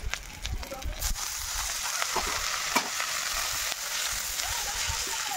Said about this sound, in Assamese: দিয়া পিঁয়াজ, জলকীয়া আৰু আদা নহৰু। এইবাৰ বহাম পালেং শাকখন।